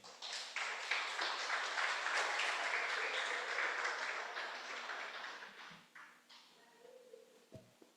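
A church congregation claps in a sustained round of applause that gradually thins out and fades toward the end, heard at a moderate distance.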